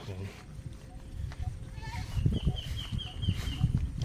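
Goats bleat repeatedly nearby, several short wavering calls over a noisy outdoor background with a voice talking.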